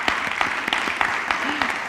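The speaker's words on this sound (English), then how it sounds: "we're going to give you a round of applause" Scattered, fairly sparse clapping from a talk audience rises in short bursts, with a voice faintly heard among the claps.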